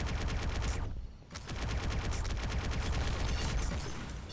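Rapid automatic gunfire from the mobile shooter Pixel Gun 3D, a loud sustained burst of fast shots that breaks off briefly near the middle, then resumes just as dense with no talk over it.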